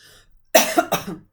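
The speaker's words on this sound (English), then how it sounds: "let me clear my throat" Someone nearby clears their throat in a few quick, rough bursts, with near silence around them.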